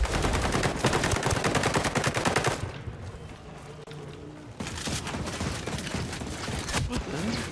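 Weapons fire in the video game Ghost Recon during a vehicle chase: dense, rapid bursts of shots and blasts, loud for a few seconds, then a quieter stretch before heavy firing resumes.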